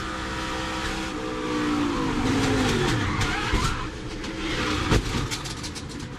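NASCAR Cup Series stock car crash at the Texas racetrack: loud engine roar with a rising whine and brief tire skid, building around the middle and ending in a sharp impact thump, with no voices.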